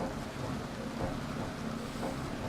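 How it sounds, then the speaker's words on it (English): Steady rain falls on a wet rally stage in Wales in a racing video game, a constant broadband hiss with low rumble and no talk. "And it's also wet, so... Wet online. Look at that rain."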